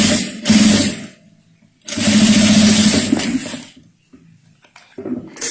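A sewing machine stitches a synthetic-material pouch in two loud close bursts, a short run and then a longer one, separated by quiet pauses and followed by faint handling noises.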